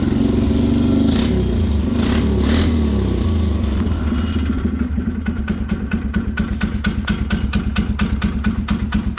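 A small engine bought from Temu runs up under added gas: a few sharp bursts at first, then a steady, rapid rhythmic putter of the engine revving, close and fairly loud.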